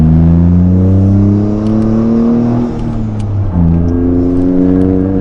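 A Toyota GR Corolla with an MBRP dual center exit exhaust accelerates hard. A loud, close, rising engine drone drops briefly at a gear shift and then climbs again, heard from inside the car.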